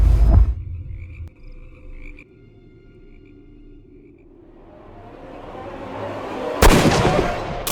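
A single loud gunshot in the Sherlock Holmes Crimes and Punishments video game, a sharp broadband crack late in the scene after a quiet stretch with a faint low rumble.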